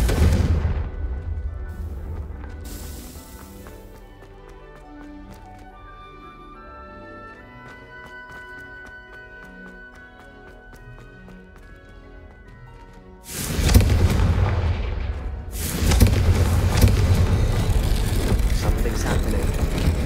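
A Confringo fire spell blasting in Hogwarts Legacy, a sudden loud booming burst followed by a sustained roaring rumble after a quieter stretch of tonal game music.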